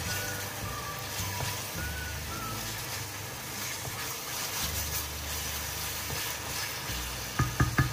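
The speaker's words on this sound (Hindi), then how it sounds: "टमाटर को हम जब तक के तेल ना छोड़ दे तब तक हम पकाएंगे।" Tomatoes cooking in oil in a pan, a continuous close sizzle and crackle with light stirring, ending in a few sharp clicks.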